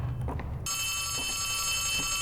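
A loud, harsh telephone bell in the video game Poppy Playtime Chapter 3 bursts in after a brief quiet rumble and rings continuously, shrill and close, with no talk over it.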